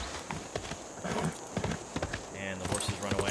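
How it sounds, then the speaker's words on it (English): Horses in Civilization 6 galloping off, with quick clip-clop hoofbeats and a brief neigh over game music, while a voice talks over the top. "And the horses run away."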